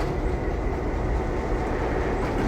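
EMD GP9 diesel locomotive number 4617, built in 1954, pulling a train on a heritage railway, a steady loud rumble of engine and rolling wheels with no talk.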